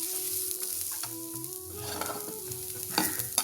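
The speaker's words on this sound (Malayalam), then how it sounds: "നമ്മൾ ഈ തേങ്ങ വറക്കുന്ന സമയത്ത് തീ കുറച്ച് ലോ ആക്കി വയ്ക്കണം" Dry, gentle scraping and stirring of grated coconut roasting on low heat in a pan, with a faint sizzle underneath, continuous and close, with a steady hum in the background.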